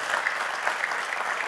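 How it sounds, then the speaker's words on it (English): An audience at the CyberChess 2022 cybersecurity conference claps for the speakers in a dense, steady burst of applause throughout. "let's give applause to the speakers"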